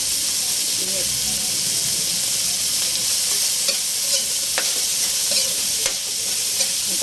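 Vegetables stir-fried over a high flame in a pan for a coconut-milk dish sizzle and hiss steadily, with scraping stirs and occasional clatter up close, continuous throughout.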